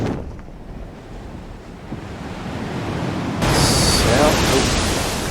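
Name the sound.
rushing waterfall in the video game Elden Ring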